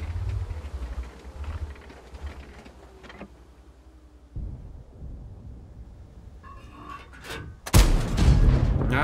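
Cannon fire in an online multiplayer game: low booming rumbles throughout, then a loud, sharp blast near the end with a heavy low-end impact, clearly louder than the rest.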